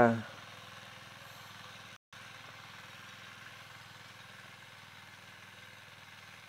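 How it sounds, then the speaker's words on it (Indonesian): Mini diesel cultivator with a 10 HP engine, working soil on a farm plot, a steady low mechanical drone running throughout at moderate distance, with a brief dropout early on. "ini kultivator mini menggunakan bahan bakar solar mesin 10 PK"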